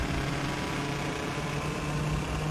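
Kart engine idling at low revs in a karting sim video game: a steady, continuous buzzing drone with an even, unbroken level throughout.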